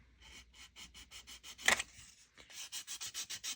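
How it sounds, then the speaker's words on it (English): Rapid, rhythmic back-and-forth rubbing of a sanding sponge against a hard plastic model car part, close up, with one louder scrape in the middle. "we're just gonna take that off really easily with this sanding sponge I've got here"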